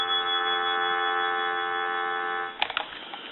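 A steady dial tone from an ITT Trimline NFL Redskins helmet telephone under repair hums for about two and a half seconds, then cuts off into a few clicks and rattles of the handset.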